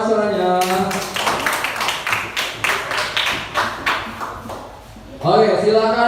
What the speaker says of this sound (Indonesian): Tepuk tangan dong, Mas suaranya.